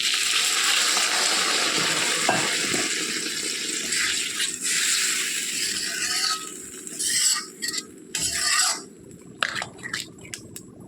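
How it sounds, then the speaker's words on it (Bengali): Water pouring into a pan of spiced tinda curry, a loud continuous splashing rush that gives way to intermittent scraping and clinks, close and with no talk. "এবার আমি এর মধ্যে দিয়ে দেবো জল"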